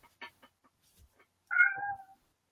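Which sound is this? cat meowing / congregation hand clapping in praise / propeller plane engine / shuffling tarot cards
cat meowing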